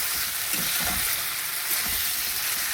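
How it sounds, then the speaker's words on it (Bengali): Vegetables sizzle in hot oil in a pan while being stirred, a constant bright frying hiss with soft scraping thumps from the stirring, close and alone. "সবজিটা ভালো করে ভাজা হয়ে গেছে।"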